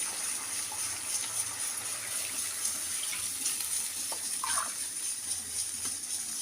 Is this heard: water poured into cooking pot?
yes